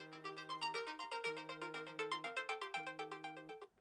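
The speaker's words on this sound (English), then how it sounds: "when you press it, your phone will just start ringing" A phone rings loudly with a bright, repeating electronic melody set off remotely from a Samsung Galaxy Fit band's find-my-phone button, close and alone for about four seconds.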